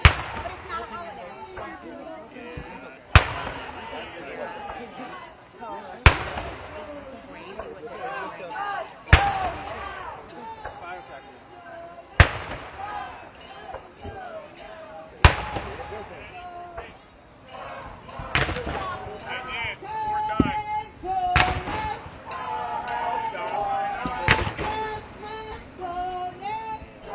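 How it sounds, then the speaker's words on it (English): Sharp, cannon-like booms go off every few seconds at a large street protest outside the White House in Washington, D.C., loud and echoing over constant crowd chatter and nearby talking. "Sounds like cannon, but it's not a holiday."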